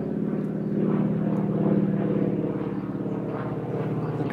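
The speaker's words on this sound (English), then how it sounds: "just going to wait for this plane to go over" An old American World War II propeller plane passes overhead, its steady, throbbing engine drone swelling slightly and then holding at a moderate distance, with no talking.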